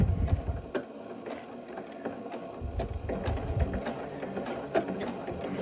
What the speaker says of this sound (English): it's gonna take some stitches in place to make our knot